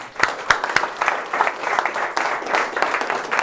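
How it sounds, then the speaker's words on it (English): Audience applause fills a room at an emotional health and influence workshop: dense, steady clapping from a seated crowd, fairly loud and close, lasting a few seconds with no voices over it. "Give yourselves a round of applause."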